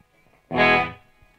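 Guitar note through a Walrus Audio Descent reverb pedal with the wet signal turned down, a single bright swelling tone that rises and fades after about half a second, with no long tail.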